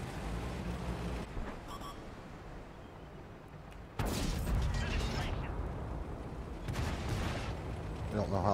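Tank cannon fire in the World of Tanks console game, the T29 heavy tank shooting at enemy artillery: a loud sharp blast lands mid-clip over a mechanical rumble, followed by further booming impact noise.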